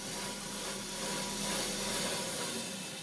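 Jasper rough being trimmed for a cabochon gives a steady, close grinding hiss that carries without a break through the whole stretch, with no voices over it.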